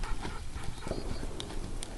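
A horse trots during a riding lesson, its hooves striking in a quick, even clip-clop rhythm that sounds close and fairly clear, with no talking over it.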